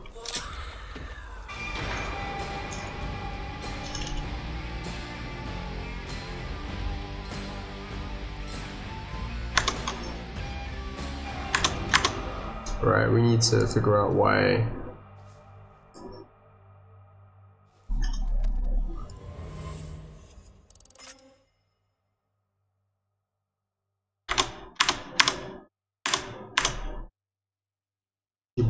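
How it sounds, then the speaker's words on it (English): Rapid clattering computer keyboard typing during a Back 4 Blood open beta session, loud and close to the microphone, mixed with game sounds and someone talking, then sparse clicks after a pause. "Keyboard is too loud for my microphone."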